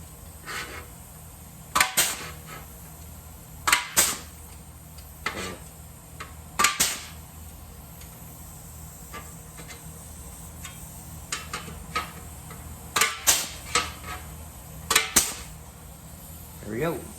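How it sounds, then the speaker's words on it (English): A Central Pneumatic air punch punches holes in metal, with sharp metallic snaps close by. They come singly or in pairs at irregular intervals, with quiet gaps between them. "Punches a nice clean hole. This is a Central Pneumatic brand."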